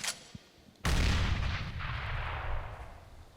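A grenade explosion in Counter-Strike on the Inferno map: a sudden loud, close blast after a quiet moment, followed by a long rumbling decay that holds for several seconds.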